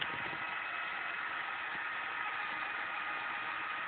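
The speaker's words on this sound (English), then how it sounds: "There's the motors driving in place." Motors of a Meade 4501 telescope drive it into position, giving a steady, even whirring hum that holds constant with no breaks.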